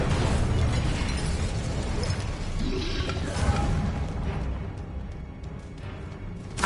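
Fiery Incendio spell blast in the video game Hogwarts Legacy, a dense, loud burst of roaring crackle that sustains for several seconds before thinning, with no talk over it.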